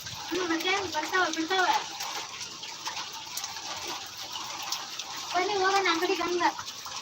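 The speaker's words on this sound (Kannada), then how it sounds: "ಅಲ್ಲಿ ನೋಡಿ ನೀರು ಹೆಂಗೆ ಬರ್ತಾವ" Water gushes steadily in a broad rushing hiss while voices talk over it.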